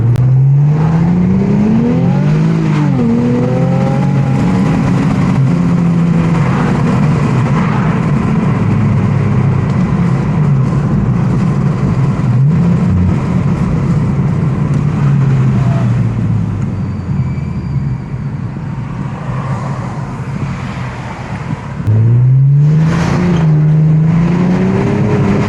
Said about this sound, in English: You can hear the turbos better.